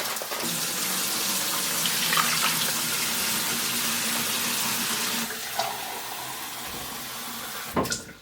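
Hot water pours steadily into an Instant Pot Pro over celery tops and other ingredients, a loud, close rushing stream that runs for several seconds, eases off and ends with a couple of splashes.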